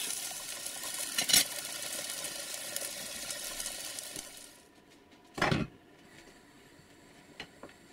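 Eggplant frying in a pan with a steady sizzle, broken by two short scraping stirs, one early and one louder one later, before the frying quiets down.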